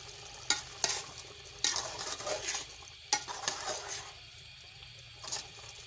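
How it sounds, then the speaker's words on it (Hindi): Chicken biryani masala with tomatoes, yogurt and whole green chillies sizzles in a pan as a spoon stirs and scrapes it, several sharp scrapes and clinks over a soft, continuous frying hiss. "बस अब हम इसे भूनेंगे"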